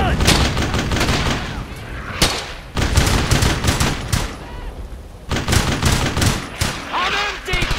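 Sustained suppressing gunfire in the WWII shooter Brothers in Arms: Hell's Highway: loud, dense bursts of rifle and machine-gun shots in rapid, overlapping volleys with brief lulls, close and continuous throughout.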